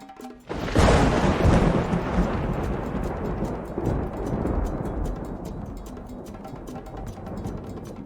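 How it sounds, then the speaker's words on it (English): A raging storm with deep thunder rumbling continuously, a loud broadband roar that swells early and then holds steady with rolling low energy and faint crackle throughout. "A storm rages outside, thunder shaking the ground as Chief Adeyemi listens intently"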